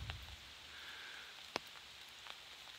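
Light rain falls outdoors among castle ruins on Mount Sashiro in Kasama, Ibaraki, a soft steady hiss of drops with one sharp tap midway and a faint low rumble at the start.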